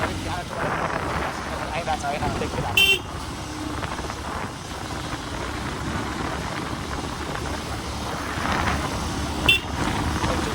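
Two short car horn toots, one early and one near the end, sound over steady traffic rumble while people talk.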